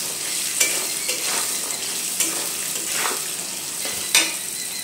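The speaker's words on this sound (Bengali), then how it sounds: "এই বাদামটা একদম হালকা করে ভেজে নিতে হবে, বেশি শক্ত হয়ে গেলে কিন্তু ভালো লাগবে না।" Peanuts are lightly fried and stirred in a pan, with a continuous low sizzle broken by several sharp scraping stirs and no talking.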